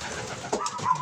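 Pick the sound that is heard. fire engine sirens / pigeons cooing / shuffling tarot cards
pigeons cooing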